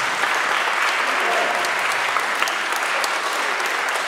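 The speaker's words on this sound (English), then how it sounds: "a nice round of applause." A school audience at a spring fifth grade band concert applauds, a dense, steady wash of clapping from many hands that holds evenly for the whole stretch, with no talking over it.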